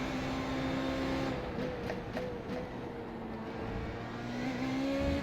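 Formula Renault 3.5 open-wheel race car in iRacing at Road America, its engine droning steadily close up with shifting pitch, a brief dip around a gear change, then climbing again toward the end.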